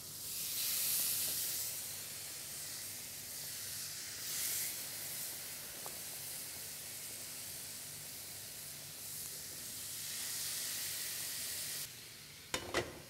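Chicken sizzles steadily in a tandoor oven, a soft, continuous hiss of steam and spitting fat, fairly faint, with a couple of sharp clicks near the end.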